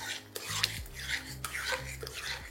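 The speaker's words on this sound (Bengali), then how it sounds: "আমি এখানে সেদ্ধ করা পুরো ডালটাই অ্যাড করে দিলাম। এবার এটাকে ভালো করে একবার মিশিয়ে নিন।" Boiled moong dal being stirred into tomato in a metal pot, with a steady scraping and clinking of a spoon against the pot in repeated strokes, close and moderately loud, with no talking.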